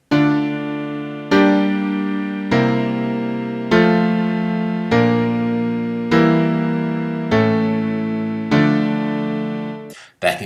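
A secondary dominant seventh chord struck repeatedly on a keyboard, about eight even strikes in a row, each ringing until the next, close and clear.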